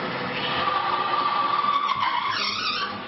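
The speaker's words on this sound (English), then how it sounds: "when two metals in motion made contact, grinding occurs" A friction machine presses metal against moving metal, producing a loud, continuous screeching grind with a harsh squeal that rises in pitch toward the end.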